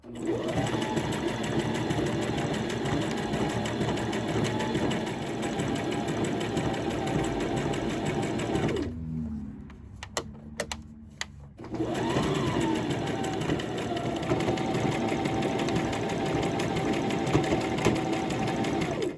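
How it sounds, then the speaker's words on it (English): A serger sews a sleeve seam with a loud, dense, continuous whirring buzz. It stops for about three seconds with a few clicks of handling, then resumes just as steadily. "my other sleeve, I'll do it with my serger"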